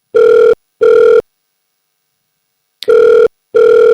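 Telephone ringback tone on an outgoing call to a pizza store: four loud, steady electronic ring bursts in two pairs separated by a long silent gap, with no voices.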